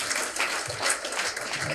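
Audience clapping at a health and medical excellence award ceremony, a brief steady burst of applause from a crowd, fairly loud and even throughout.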